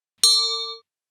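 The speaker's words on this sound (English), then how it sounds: "It's just a bell." A single bright bell strike, unprocessed, with a sharp metallic attack and clear ringing overtones that decay smoothly over about half a second before stopping.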